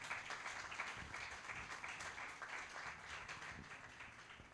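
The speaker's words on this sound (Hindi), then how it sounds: "आए पाकरू के लिए जोरदार तालियां बजाएं।" A church congregation applauds steadily and loudly, a dense wash of many hands clapping at once that continues throughout without a break.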